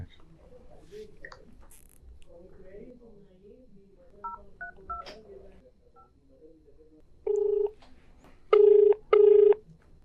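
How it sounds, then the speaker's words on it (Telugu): A telephone call being dialed, with three distinct keypad beeps near the end, clear and loud, following several seconds of faint background clicks and murmur. "సో డాక్టర్ గారికి కాల్ చేసి మాట్లాడదాం."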